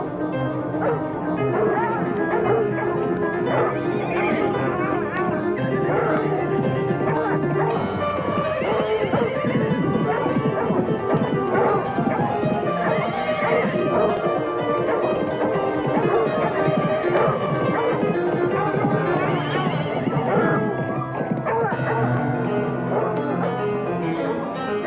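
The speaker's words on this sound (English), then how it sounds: "the sound of horses and hounds" Album sound effects of horses and hounds play in a dramatic chase scene, with dogs baying and yelping and horses whinnying over a dense, continuous bed of music and voices.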